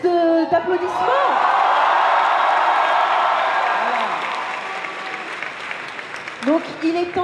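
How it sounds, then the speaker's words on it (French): Crowd at an Easter cosplay contest applauding and cheering, a loud sustained roar of clapping with whoops, while a voice talks briefly over it at the start and end. "je veux plus d'applaudissements"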